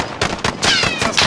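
Gunfire in the video game Call of Duty: Modern Warfare, a rapid cluster of loud close shots in quick succession, sharp repeated bursts with a ringing tail.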